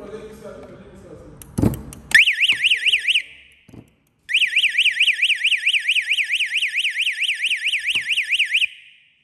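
An alarm from an InBio access control unit sounds as a loud, warbling electronic tone when its input is shorted. It rises and falls rapidly in two bursts with a short gap between them, after a few clicks and handling noises.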